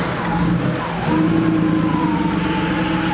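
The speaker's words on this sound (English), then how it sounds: "Let's go ahead and start the engine and see where we are" A budget Porsche 3.2 Carrera project car starting up and settling into a steady, loud, rough idle close by with a cold oxygen sensor, the engine note holding continuously after the start.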